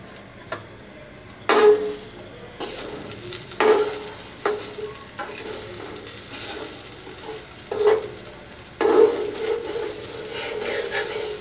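An egg sizzles softly in a frying pan while a utensil stirs it, with scraping strokes coming at irregular intervals over a constant low frying hiss.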